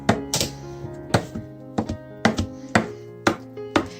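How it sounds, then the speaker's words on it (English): Boiled eggs being rough-chopped for egg salad give a run of about ten sharp knife thunks on a board at an uneven pace, over a soft, steady tonal hum. "And we're just going to do rough chops on this"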